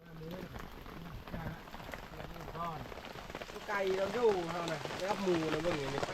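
Rain falls steadily outdoors in the countryside while mushroom curry is cooked, a continuous wet patter under near, ongoing speech that grows louder in the second half.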